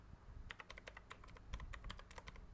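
Quiet, close typing on a computer keyboard while entering text for a Minecraft mod's NPC quest, a steady run of rapid clicky keystrokes with no talking.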